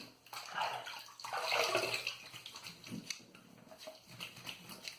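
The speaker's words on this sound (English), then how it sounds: "let's wet the face and start." Cool water in a bathroom sink being splashed onto the face, with close, soft splashing and dripping in irregular bursts, quiet overall, and no talking.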